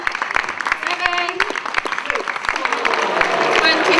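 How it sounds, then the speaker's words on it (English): Audience applause after a bachata dance performance, scattered sharp claps and cheering from a crowd, moderately loud, with people talking over it. "Have another round of applause for Mark and Salima."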